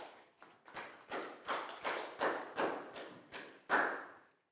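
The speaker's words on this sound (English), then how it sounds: "High five and a big round of applause for Prel," Classroom applause for a student in a Year 4 science lesson, heard as about ten distinct, evenly spaced claps, like a single person or small group clapping in rhythm at moderate volume with no talking.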